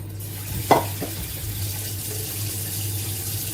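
Water running steadily from a kitchen tap, a constant rushing hiss with a small clunk near the start.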